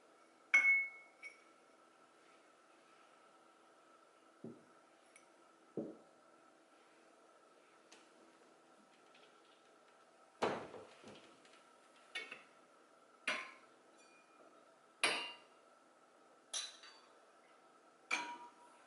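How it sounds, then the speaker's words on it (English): Fluted ribbed drinking glasses being set on a dining table, sounding as a series of sharp, isolated clinks and taps spaced a few seconds apart in a quiet room, with no talking. "So I'm gonna be going in with these fluted or ribbed drinking glasses,"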